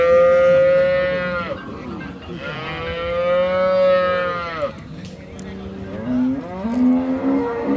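A young Friesian bull calf at a cattle market in Amabari, Dinajpur bellows in long, drawn-out moos, two big calls followed by a rising third, loud and near, with faint crowd chatter behind.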